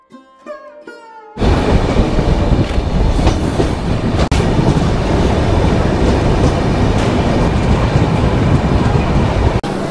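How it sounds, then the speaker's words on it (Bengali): The Rupasi Bangla Express pulls into Salboni station. A brief tonal horn blast comes first, then a loud, close, continuous rumble and clatter of wheels that lasts to the end, with a few sharp clanks. "ট্রেন একদম রাইট টাইমে শালবনী স্টেশনে ঢুকেছে।"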